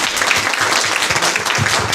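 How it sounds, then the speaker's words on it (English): Brisk audience applause at a hackathon event, a short burst of many hands clapping close and loud with no talking over it. "Let's give them a round of applause."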